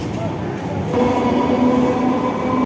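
A Kolkata local train runs at Khidirpur railway station, a loud steady rumble and hum that swells midway.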